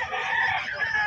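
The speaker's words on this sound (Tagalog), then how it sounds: "Andun yung mga manok sa dulo." Roosters crow and chickens cluck close by at a busy market, one loud drawn-out crow filling the moment.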